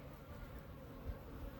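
Disturbed Africanized bees buzz inside a water meter box, a continuous low droning hum, close but faint and steady, with no voices.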